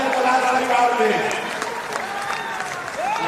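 A crowd in a large Patna auditorium applauds to welcome a speaker at a political workshop, sustained dense clapping with a voice talking over it throughout.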